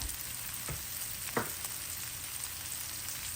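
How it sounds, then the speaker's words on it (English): Sliced onions frying in melted butter in a skillet give a continuous soft, even sizzle, with a couple of faint clicks from a utensil near the start. "Once it melts, add your sliced onions"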